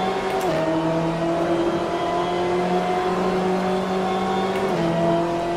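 BMW M8 GTE race car in the Assetto Corsa video game accelerating hard out of a corner, its engine note climbing steadily through a gear, with a quick shift near the start and another near the end, loud and close.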